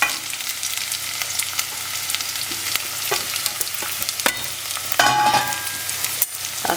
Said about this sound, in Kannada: ಸಾಸಿವೆ ಹಾಕ್ತೀನಿ ಒಗ್ಗರಣೆಗೆ. ಸಾಸಿವೆ ಸಿಡಿದ್ಮೇಲೆ ಎಲ್ಲ ಒಟ್ಟಿಗೆ ಹಾಕೊಳ್ಳಿ, ಕರಿಬೇವಿನ ಸೊಪ್ಪು ಇದು ಎಲ್ಲನೂ.